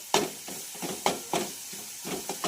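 Finely chopped curry leaves frying in a pan while being stirred, with a low sizzle under rhythmic spatula scrapes, about six distinct strokes close up.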